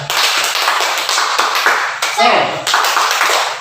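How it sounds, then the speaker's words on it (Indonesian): A group claps in a steady rhythmic pattern for a spirit cheer during an Indonesian class or session, loud and close, with brief voices mixed in around the claps. "Tepuk semangat."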